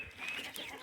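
Free-ranging Cinnamon Queen hens cluck softly nearby on a farm, low and faint, with a thin chirping note above.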